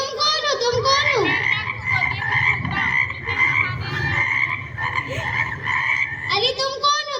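Frogs croak in repeated, bright, throaty calls close by, coming in quick overlapping bursts with brief gaps, set against a low steady background murmur.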